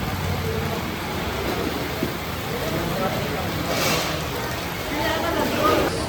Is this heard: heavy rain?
yes